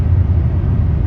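A 2011 Chrysler 200 with an overheating problem drives on the road on a test drive, heard from inside as a loud, steady low rumble of engine and road noise with no talk.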